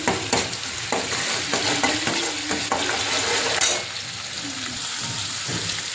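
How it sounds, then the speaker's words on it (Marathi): Onion frying in hot oil in a pan, with a steady sizzle and frequent utensil scrapes and clinks from stirring up close. It settles into a quieter sizzle partway through. "इथं आपण तेलात कांदा टाकलेला आहे।"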